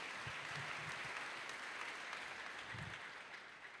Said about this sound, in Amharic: አይዞሽ፣ አጨብጭቡላት።